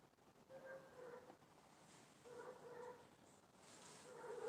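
A neighbor's dog yaps and whimpers persistently in the distance outdoors, faint repeated cries rising and falling over steady background noise.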